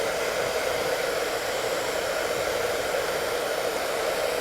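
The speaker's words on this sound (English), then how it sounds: "Remember, never point the dryer directly into their eyes." A hair dryer runs on a low-temperature setting while a dog is groomed, a loud, steady, unbroken blowing whoosh close by with no speech.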